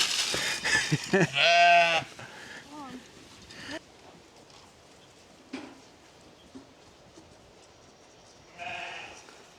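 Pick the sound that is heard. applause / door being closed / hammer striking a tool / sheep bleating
sheep bleating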